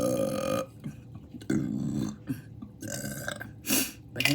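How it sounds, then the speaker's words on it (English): Several loud, deep burps from someone eating Korean kimchi pancakes, coming one after another with short pauses, close up and with no talking. "I can burp all day."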